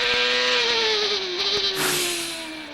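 A CART race car starts a hot lap during Friday qualifying at Montreal in 2002. A single loud, close engine howls with a steady pitch that slowly sags, and there is a brief shift in tone near the end.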